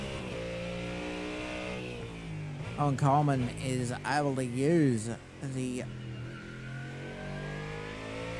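A Ford Mustang GT3 engine revving and shifting through gears in a racing video game during an endurance race at Spa. The engine rises and falls repeatedly beneath a commentator talking over it.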